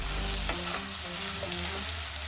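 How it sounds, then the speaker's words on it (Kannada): Onion, chillies and garlic frying in a pan for mushroom biryani, a dense continuous sizzle with a couple of stirring scrapes, a low hum underneath. "ಆನಿಯನ್ ಹಾಕಿ 1 ನಿಮಿಷ ಫ್ರೈ ಮಾಡಾದ್ಮೇಲೆ ಚಿಲ್ಲೀಸ್ ಹಾಕಬೇಕು."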